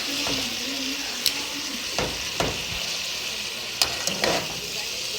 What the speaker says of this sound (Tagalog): ito po nagluluto ako ng beef steak